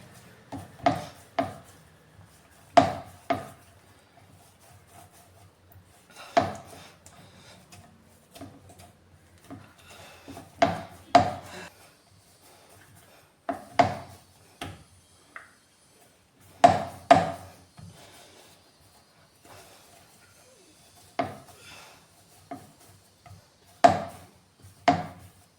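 Bread dough being kneaded by hand, a series of heavy slaps and thumps on a surface coming in irregular clusters between quiet gaps, close and distinct, no talking.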